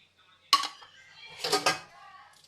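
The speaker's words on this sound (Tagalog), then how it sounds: "Maglilinis tayo ng plato." Plates and dishes being washed, with a sharp clatter of crockery near the start and a longer burst of clinking and scraping a second later, close by, with no talking.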